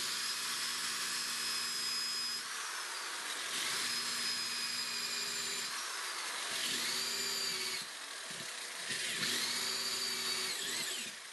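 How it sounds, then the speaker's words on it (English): A power drill with a taper bit drills a pilot hole for a 1-inch number 8 screw in a musket stock, whining steadily through several bursts with brief pauses and pitch shifts as the bit bites in, close and loud, no talking. "I'm going to drill with my taper drill"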